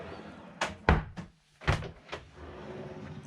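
Large storage drawers aboard a 2016 Princess S65 yacht slide open and shut, giving several sharp thuds and knocks in an irregular sequence, close and clear.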